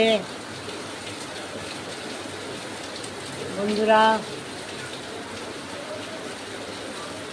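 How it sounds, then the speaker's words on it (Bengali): Heavy rain pours steadily in Behala, Kolkata, seen from a balcony, a dense continuous hiss throughout, while a voice briefly speaks partway through. "অজোর ধারায় বৃষ্টি হচ্ছে"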